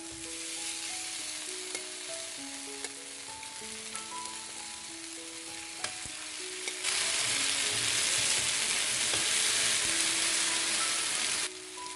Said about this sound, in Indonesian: Bakar ayamnya pakai api kecil aja biar nggak gosong